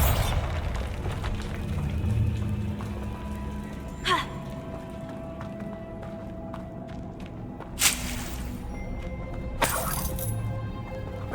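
Bombarda explosion spells cast in Hogwarts Legacy, sharp bursts landing at separate moments over a low ambient game backdrop, each blast breaking apart with a crashing, debris-like tail.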